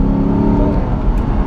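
2008 Ford Mustang GT accelerating hard on the road, a loud, close, steady engine roar filling the whole moment without any talk.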